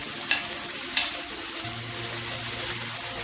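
Sliced onions, about one and a half medium, drop into hot oil with two sharp clattering hits and then a steady close sizzle that runs to the end, frying for a chicken curry served with Nigerian fufu.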